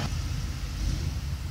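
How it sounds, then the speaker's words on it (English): A big truck drives down a street outside, giving a loud, continuous low rumble with road noise throughout the short stretch. "I just had a big truck come down the street"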